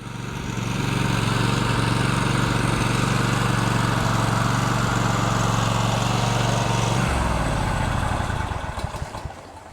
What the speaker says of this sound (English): he's attached it to the back of the lawnmower, and we're going to take it over to the wood pile.